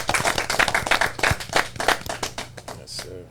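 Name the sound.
audience clapping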